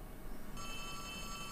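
A telephone rings in the video game Poppy Playtime Chapter 3, a steady electronic tone that starts partway through over a continuous low background hum.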